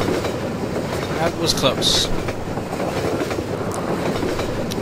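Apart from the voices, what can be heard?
train moving in the video game Half-Life 2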